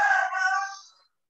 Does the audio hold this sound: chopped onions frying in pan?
no